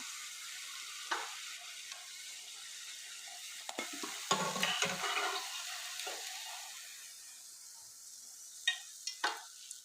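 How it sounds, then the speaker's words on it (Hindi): Kebabs made from leftover paper bread fry in hot oil with a steady, soft sizzle, broken by occasional clinks and scrapes of stirring or turning nearby, with no talk. "इसी तरह हम तमाम कबाब तल लेंगे।"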